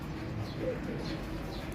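Soft, low racing pigeon coos murmur faintly over a steady background hum, a few gentle calls repeating close by.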